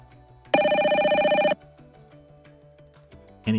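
A GoTo desktop app ringtone preview trills loudly for about a second as a steady, buzzing electronic ring, stops, then starts again briefly at the very end.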